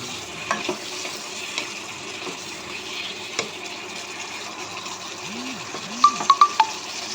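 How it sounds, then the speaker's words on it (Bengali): Eggplant and green banana being sautéed in spices in a pan, heard as a continuous moderate sizzle with occasional spoon taps, then a quick run of several metallic clinks near the end. "আমি বেগুন আর কলা রেখেছিলাম এখন এগুলো কষিয়ে নিচ্ছি"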